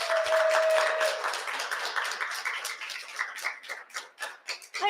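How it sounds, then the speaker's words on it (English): An audience claps for an arriving guest at an indoor talk, scattered hand claps building into a brief round of applause, moderately loud and not very dense, with no clear speech. "let's give Tracy a big round of applause and invite her up"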